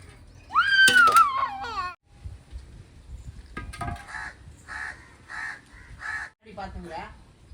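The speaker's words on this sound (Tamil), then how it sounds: "காக்கா நானா காக்கா நம்ம தென்னை மரத்துலயோ" A crow, apparently in a coconut tree, gives a loud call followed by a rhythmic run of several harsh caws nearby, with people talking between the calls.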